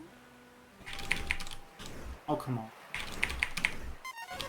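Computer keyboard typing comes in quick bursts of clicking keystrokes, separated by short pauses, with a voice talking in between.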